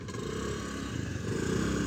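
Scooters and motorbikes pull out of a parking lot at Palm Beach lounge in Pokhara, engines droning and revving steadily close by, a continuous rumble that swells slightly toward the end.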